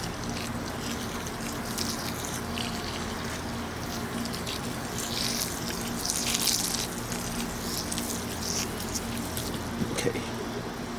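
Water pours steadily from a watering can to soak potting mix for Meyer lemon tree cuttings, a soft continuous trickle and splash that is fairly quiet and close.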